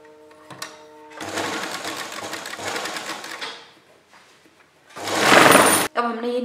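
A sewing machine stitches a single-layer frill onto kurta sleeves, whirring in steady bursts with a sharp fast run near the end, close up, between short pauses where someone talks.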